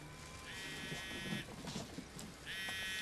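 A phone buzzes for an incoming call in Marvel's Spider-Man, two short electronic buzz bursts with a pause between them, faint against quiet game ambience.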